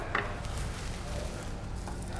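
Steady, hissing sizzle of a thick slice of lemon loaf grilling in a hot pan, continuous and fairly close, with faint scraping in the background.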